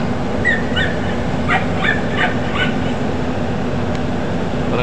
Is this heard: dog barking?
yes